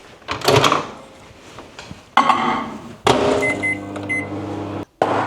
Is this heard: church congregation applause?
no